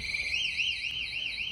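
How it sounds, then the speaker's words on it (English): Loud electronic door alarm set off at a college dining hall entrance, a steady warbling two-tone wail rising and falling in a repeating cycle, close and continuous without pause. "we set off a loud alarm"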